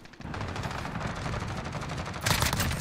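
Sustained automatic AK-47 fire in a Call of Duty match, a dense unbroken burst of rapid shots with a louder, harsher stretch near the end and no talking.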